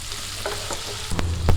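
Bitter gourd and a mix of shallots and onions sautéing in a pan for pavakka theeyal, a steady low sizzle broken by a few sharp scraping stirs near the end, close and fairly loud.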